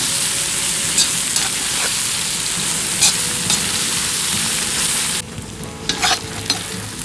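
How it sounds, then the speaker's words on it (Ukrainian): Chopped onion sizzles loudly in a hot pan for bigos, a steady dense frying hiss with occasional pops and crackles that briefly drops quieter near the end. "Тепер настав час додавати цибулю."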